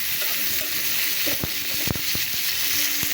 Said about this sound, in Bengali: এখানে আমি এই তেলেই পেঁয়াজ, আদা, রসুন কুচি এখন ভেজে নেব হালকা করে।